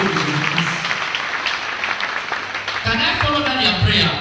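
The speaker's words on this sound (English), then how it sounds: "Clap for Jesus Christ." A church congregation claps together, a moderately loud wash of applause that gives way to a voice speaking over the last seconds.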